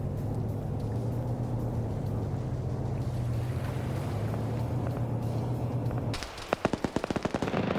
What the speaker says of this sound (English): We also have the ZU-23s firing into this spot.